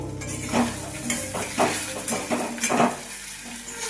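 Chopped capsicum and tomato being stirred in a pan with a spoon, several close scraping strokes in an uneven rhythm over a light sizzle, no talking.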